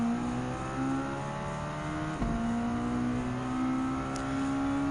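A race car engine in Gran Turismo 7 runs loud and steady, its pitch dipping briefly with a quick shift or thump midway before climbing again, with no voices present.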